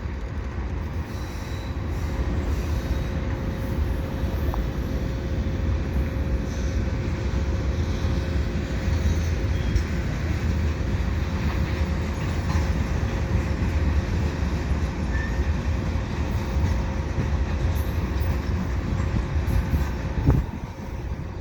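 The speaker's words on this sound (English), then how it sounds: "CSX train heading westbound here at Dorval" CSX freight train passing westbound at Dorval on a Sunday afternoon, a steady close rumble of wagons rolling by for the full length, with faint wheel squeal and a brief louder clunk near the end.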